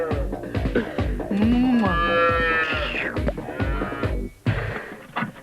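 Cows on a livestock farm with dairy and beef cattle, one drawn-out rising and falling moo up close, set against a rhythmic thumping background with a sharp knock near the end.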